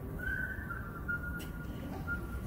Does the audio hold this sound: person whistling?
yes